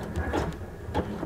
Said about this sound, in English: My sewing machine is on a wide zigzag